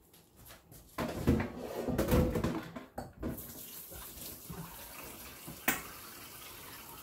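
Tap water runs into a cooking pot in a home kitchen sink to let it soak, a splashing rush that swells and then eases, with a knock or clatter near the end.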